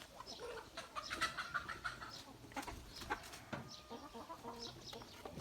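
Several young chickens cluck and chirp softly at close range, overlapping calls over a quiet farmyard background.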